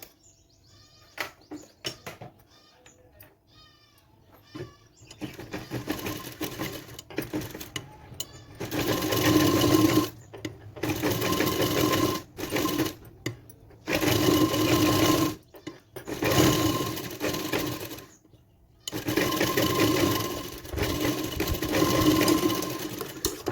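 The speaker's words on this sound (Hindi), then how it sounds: "इसके ऊपर रख के इसको हम चारों तरफ से सिलाई लगा लेंगे।" A sewing machine stitching blouse fabric around a back neck design, whirring in several bursts separated by short pauses, loud and close, starting after a few seconds of quieter handling sounds.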